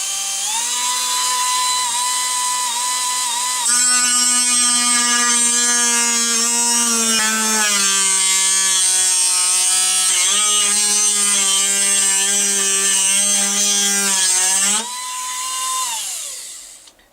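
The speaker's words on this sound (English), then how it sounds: "I'm going to use my Dremel, and I got one of the smaller drums on the end of it here." Dremel rotary tool fitted with a small sanding drum: a loud, steady high-pitched whine that sags in pitch as it bears down on the work, then rises again as the load eases, with no voices.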